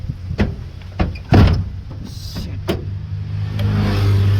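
A car's power window motor whirs briefly as the glass is lowered, close by inside the vehicle, with a few door-like knocks and clunks around it and a low engine hum underneath.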